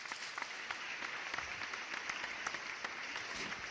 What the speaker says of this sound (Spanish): Damos un fuerte aplauso para recibir a Isabel Cortegano.